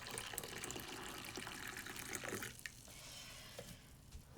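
Water runs from a tap while a container is refilled, a steady close splashing stream that stops about halfway through, leaving faint room noise and small drips.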